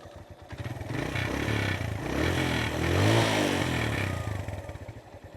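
A 2019 touring motorcycle engine runs after a self-start, its uneven rhythmic rumble firming into a steady idle with a slight rev in the middle, close and moderately loud with some mechanical clatter.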